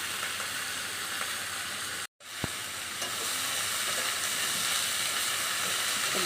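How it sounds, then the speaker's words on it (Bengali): Pat shak greens frying with green chillies in a hot pan, a loud steady sizzle and hiss close up, briefly cut off and then resuming just as strong. "ভালো করে ভেজে নেব"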